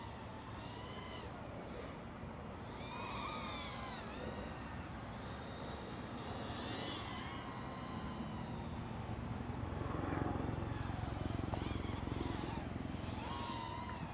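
The high, whining motors of a Cinelog 30 V3 FPV drone rise and fall as the throttle changes, steady and fairly faint, with no talk.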